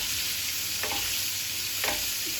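Butter sizzles steadily in a hot frying pan as it is spooned over the food, with two brief spoon scrapes against the pan breaking the constant hiss.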